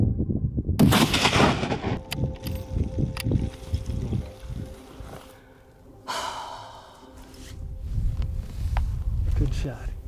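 A single loud rifle shot cracks out during a Sitka blacktail deer hunt in Alaska, followed by heavy breathing, rustling and quiet voices outdoors.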